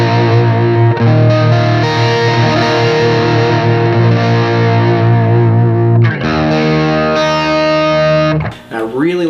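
Electric guitar strumming big rhythm chords with the tone knob rolled back, sustained and still clear, ringing steadily before a brief shift and a fading flourish at the end.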